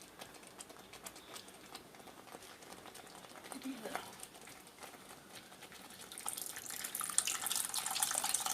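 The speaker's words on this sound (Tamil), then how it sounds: "இப்போ புளி தண்ணி ஊற்றிக்கலாம்." Tamarind water poured into a pan of poondu kulambu, a Tamil garlic curry, as a soft, steady liquid splash that swells louder and fuller in the last couple of seconds.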